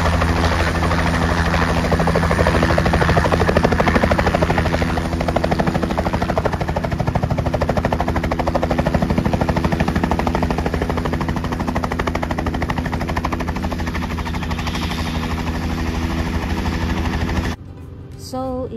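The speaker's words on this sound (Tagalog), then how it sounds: "So ito na nga po at paangat na ang ating helicopter." A helicopter lifts off for a scenic flight over the Great Ocean Road, its rotor chopping and turbine whining loud and close in a rapid, steady pulse before the sound cuts off abruptly near the end.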